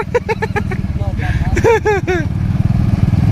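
Small motorized tricycle engine rumbling steadily close by on a farm in Libon, Albay, with people talking loudly over it.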